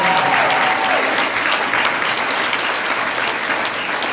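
An audience applauds at a coronation ball for a fishing derby, steady dense clapping that fills the whole stretch without pause.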